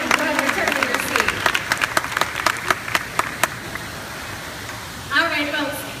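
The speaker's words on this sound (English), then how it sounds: "How about a round of applause for Miss Grace in the round?" Audience applause at an animal show at Universal, with individual claps standing out in a fairly near, uneven patter that thins and fades before a voice briefly speaks near the end.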